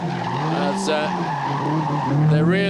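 A rally car driven hard through a winding stage at the 1991 Hunsrück Rallye, engine roaring close by with rising revs and tire scrabble, a commentator's voice running over it.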